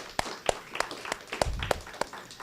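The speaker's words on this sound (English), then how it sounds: "Can we just have a quick round of applause for the COM 107 students for doing the great reading?" Sparse clapping in a classroom after a student reading, about seven distinct claps at a steady, unhurried pace. It sounds like only a few hands rather than a full crowd, fairly close, with no talking.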